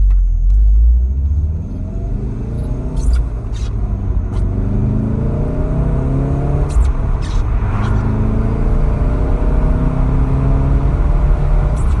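A tuned Volkswagen Golf R Mk7.5 with Unitronic Stage 1+ in race mode accelerating hard, a deep rumbling roar with rising revs through the gears, loud and close.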